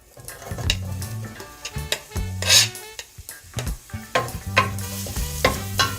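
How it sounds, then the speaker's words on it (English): Onion, scallion and thyme saute in melted butter for Jamaican callaloo rice, with a steady close sizzle broken by repeated scraping stir strokes and clinks of the utensil against the pot. "I'm just going to let the butter melt, and then just let that saute for like about 30 seconds or so."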